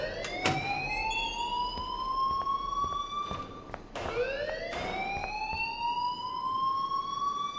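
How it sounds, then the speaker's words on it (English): School alarm in Life Is Strange: a loud electronic siren that sweeps upward in pitch, cuts off, then rises again in a second climbing wail, with faint clicks behind it. "please turn off that alarm since that's your job"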